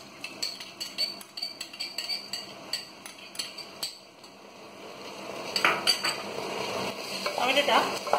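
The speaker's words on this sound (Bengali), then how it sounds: "টমেটোটা ভালো করে পেঁয়াজের সাথে মিশিয়ে নেবো" Tomato and onions being stirred and fried for Bengali mutton kosha: rapid metallic spoon scrapes and clinks against the pan give way to a louder, steady sizzle with continued stirring, close up.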